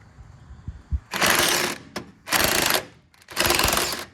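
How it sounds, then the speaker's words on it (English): A larger impact wrench with a 15 mm socket hammers at a sway bar link on a Chevrolet Silverado front end in three loud, close, rattling bursts, with short pauses and metallic clanks between them. "So we got a bigger impact, 15 millimeter, and I'm gonna try to hold this."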